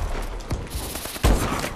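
A sniper rifle shot rings out in a free-for-all video game match, a single sharp, loud blast standing out from a background of scattered distant gunfire.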